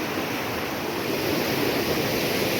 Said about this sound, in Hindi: आजकल पानी भी काफ़ी ज़्यादा बढ़ गया है गार्ड गदेरों का, बारिश की वजह से